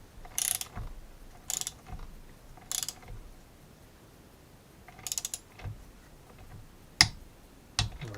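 A ratchet clicks in short bursts while tightening a hex screw on a Skoda Fabia III 1.2 TSI gearbox, with quiet pauses between the quick runs of pawl ticks and a couple of sharper metallic taps.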